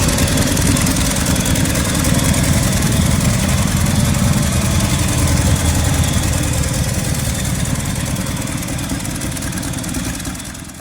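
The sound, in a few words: 1968 Chevrolet C10 250 engine idling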